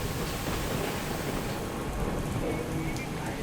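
Heavy monsoon downpour in Surat, a dense steady roar of rain hissing continuously and loudly across the whole stretch, with no break or other clear sound standing out.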